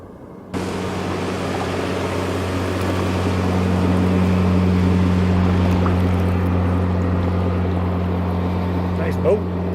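A motorboat passes near a kayak on the water, its engine a steady droning rumble that swells gradually and then eases, close and fairly loud.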